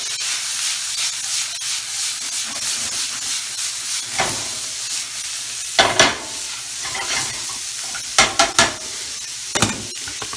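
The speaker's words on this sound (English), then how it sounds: "Not frying this long, they're already cooked." Fiddleheads fry in a pan with bacon and onion, giving a steady close sizzle broken by several sharp bursts of stirring and scraping, with no talking.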